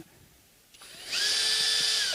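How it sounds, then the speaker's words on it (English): A power tool spins up to back screws out of a Fender Jazz Bass, a short low whir followed by a loud, steady high-pitched drill whine held close up. "I don't recommend tightening screws with the power tool, but removal is perfectly fine"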